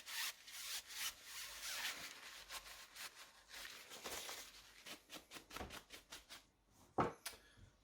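Cloth rubbing along the worm shaft of a SkyWatcher HEQ5 Pro telescope mount, making faint, close scraping and rubbing strokes in an irregular back-and-forth rhythm, with a sharper knock near the end.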